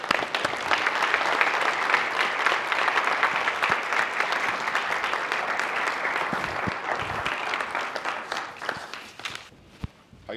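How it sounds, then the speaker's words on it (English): An audience at an alumni summit applauds steadily for about ten seconds, a dense, even clapping that fades slightly at the end. "A round of applause."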